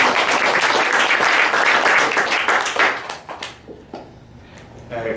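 Magic show audience applauding a volunteer on stage, a loud, full round of clapping that holds for about three seconds and then tapers off to a few lingering claps.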